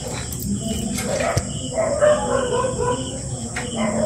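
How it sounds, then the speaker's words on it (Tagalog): A dog barks noisily near a house gate. Short barks and yips repeat at close range over steady background noise. "Kanina pa yung aso mga idol, sobrang ingay."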